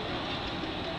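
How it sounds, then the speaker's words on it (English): Panama Canal lock tram locomotive rolling along its rails, a steady, dense rumble and hum of rail travel heard close and fairly loud without any speech. "here's a nice detail of one of the trams that drag the big ships along."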